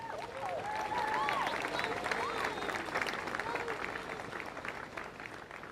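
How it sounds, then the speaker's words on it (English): A crowd at the Rip Curl Pro Bells Beach surf finals claps and cheers at moderate distance, with bird calls and murmuring voices mixed into the steady applause. "Give yourselves a round of applause again."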